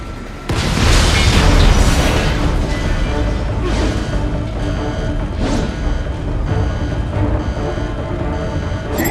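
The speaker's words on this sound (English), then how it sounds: "Firing RPG!" An RPG rocket fired in Metal Gear Rising: Revengeance sets off a loud, close explosion with a sudden heavy boom, followed by sustained rumbling blasts and crashing debris that fill the whole stretch.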